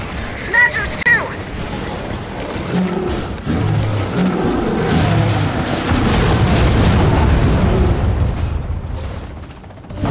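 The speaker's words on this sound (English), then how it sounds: "Airstrikes are amazing." Airstrike blasts in Gears of War 4 boom and rumble through a loud, dense stretch of battle noise with mechanical clatter, building toward the end, while voices talk over it.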